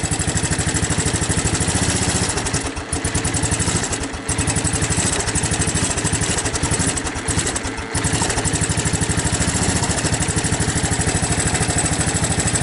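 A 1984 Honda ATC 200ES three-wheeler runs steadily on old gas with choke applied, a loud continuous small-engine drone with a couple of brief dips in note and no talk over it.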